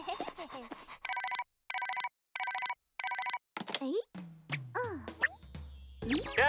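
In an animated cartoon, a telephone rings for an incoming call with four even, electronic ring bursts separated by short silences, followed by assorted springy cartoon sound effects.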